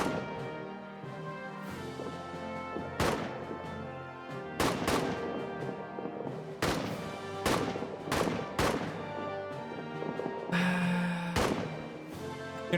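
Rifle shots from soldiers in the trench-warfare game All Quiet in the Trenches, sharp irregular cracks spaced a few seconds apart over a steady battlefield drone with music-like tones.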